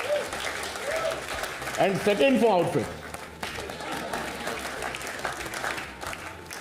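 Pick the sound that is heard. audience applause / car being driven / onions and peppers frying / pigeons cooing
audience applause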